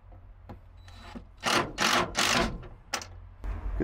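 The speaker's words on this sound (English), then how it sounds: "We just need to screw this down." Screws are driven to mount an EcoFlow power hub in an off-grid power setup, with several short bursts of a power driver whirring into wood, the longest three in quick succession, between faint clicks and handling noises.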